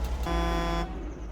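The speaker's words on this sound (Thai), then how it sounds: "เขาบอกให้บีบแตรนะครับ" Truck horn in the Alaskan Road Truckers video game gives a single steady blast of a little over half a second over a continuous low engine hum.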